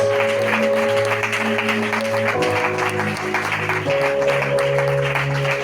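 A church congregation applauds God with a loud, sustained mass of clapping, while steady sustained organ or keyboard tones change pitch underneath.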